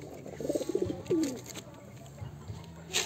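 Pigeons coo nearby in a low, soft burble, with one clearer rolling call in the middle and faint bird sounds and rustling around it.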